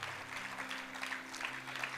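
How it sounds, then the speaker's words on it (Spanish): Church congregation applauding after a pastor's sermon prompt, a steady wash of clapping hands at moderate distance, with a low sustained hum underneath throughout. "¿Alguien le puede dar un aplauso al Señor por eso?"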